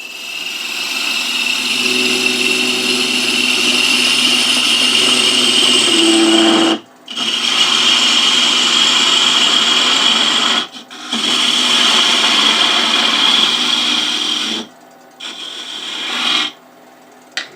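Wood lathe parting cut on a wooden tower top: a loud, steady scraping rasp of the tool against spinning wood, broken by three short pauses where the cut stops, then resumes with a hissing whine.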